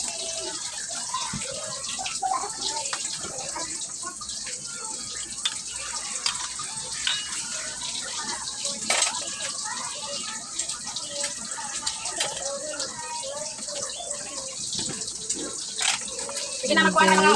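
Water running into a cooking pot in a home kitchen, a steady hissing gush throughout with a louder splash at the end, while people talk over it.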